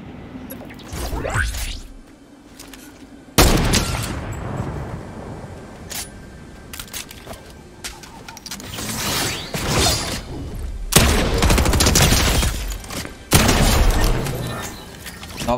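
Gunshots in a Fortnite match ring out in sharp, loud bursts, several separate blasts and short volleys spread across the stretch with brief quieter gaps between them.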